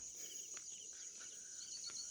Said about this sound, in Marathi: हे पक्ष्यांचा किलबिलाट ऐकू येतोय का तुम्हाला